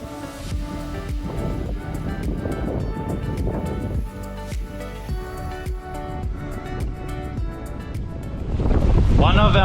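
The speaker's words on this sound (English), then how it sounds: "It's a bit of a mission taking it off when the wind is so strong." Strong wind roars over a sailing boat at sea on the Coral Sea, buffeting loudly and continuously with water wash and rigging noise, rising to a heavy gust at the end.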